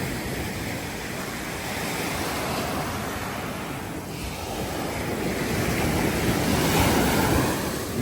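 Ocean waves wash in at high tide on a Koh Samet beach in Thailand, a continuous close surf roar with some wind noise and no talking.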